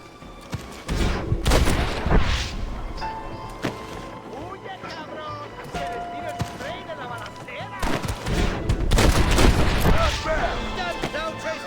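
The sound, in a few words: gunfire from a cliff in Red Dead Redemption video game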